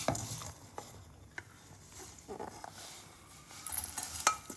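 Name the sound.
stirring ghee into flattened rice (aval) in a pan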